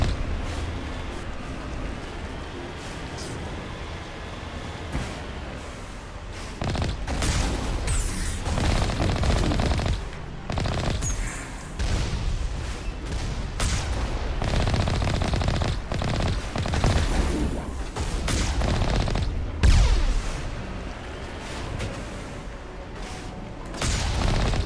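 Sustained automatic gunfire from enemies shooting at the player in Mass Effect, with dense rapid bursts and sharp impacts recurring over a rumbling game background for the whole stretch, loud and close.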